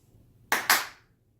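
Two quick, sharp hand claps close to the microphone, the second slightly louder, with a short ring after each and quiet around them.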